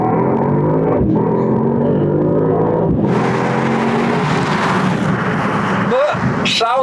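A Mercedes-Benz AMG GT with four-wheel drive makes a launch start: a loud engine roar climbs through the revs and shifts gear, with a voice talking over it.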